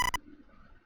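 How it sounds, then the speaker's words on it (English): The Mother (EarthBound Beginnings) video game sounds a phone ringing: one short, loud electronic chirp of bright stacked tones that cuts off quickly and leaves near silence. "Oh, that was a fucking phone call!"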